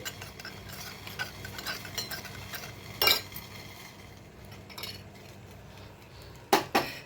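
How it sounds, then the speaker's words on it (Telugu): A spoon stirring rice powder into a little water in a bowl, mixing a baby's porridge, with soft, steady scraping and occasional sharp clinks of metal against the bowl at close range. "ఉండలేకుండా కలుపుకోవాలి"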